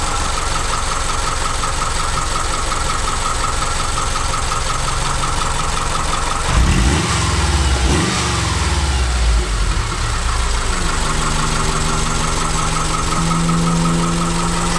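Subaru engine fitted in a Volkswagen conversion idling at operating temperature, a steady loud close hum with a brief change in pitch midway before settling back to an even idle.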